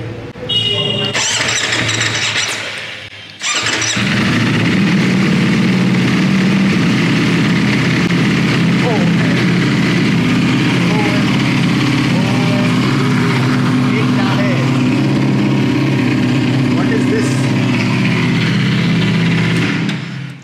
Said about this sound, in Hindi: ये तो इसका डिफ़ॉल्ट एग्जॉस्ट लगा हुआ है